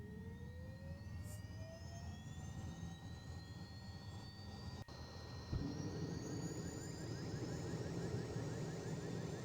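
Aircraft engine starting in the FSPassengers flight simulator game, a rising whine that climbs steadily in pitch, a click midway, then a louder low rumble joining as the engine catches and runs, steady and close.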